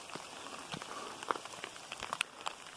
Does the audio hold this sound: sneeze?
no